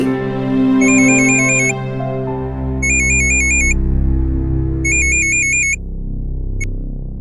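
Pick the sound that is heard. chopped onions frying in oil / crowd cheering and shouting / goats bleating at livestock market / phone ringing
phone ringing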